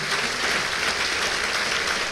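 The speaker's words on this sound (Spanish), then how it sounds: "Dale un aplauso al Señor." Steady, even clapping from a church congregation fills the space, a continuous wash of many hands at moderate loudness with no voices standing out.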